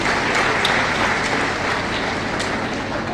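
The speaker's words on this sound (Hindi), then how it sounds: "एक बार जोरदार तालियां चाहूंगा," An audience at a community association conference in India claps loudly and steadily, a dense, continuous round of applause that holds for the whole stretch with no voice over it.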